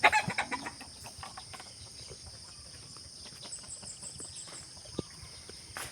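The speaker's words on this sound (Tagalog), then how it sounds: "alaga nating mga manok." Chickens cluck and murmur close by, busiest at the start, with crickets and faint rural background noise continuing underneath.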